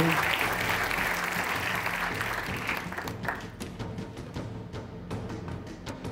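A crowd claps loudly and continuously, and the applause gradually thins out toward the end.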